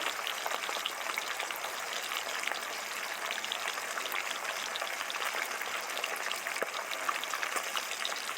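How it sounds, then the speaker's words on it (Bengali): Poppy seed paste fries with pointed gourd in a pan, giving a steady, close sizzle that carries unbroken and evenly at low volume, with no talking over it. "পোস্তর আগে কিছুক্ষণ কষাবো যেন পোস্ত কাঁচা গন্ধটা না থাকে"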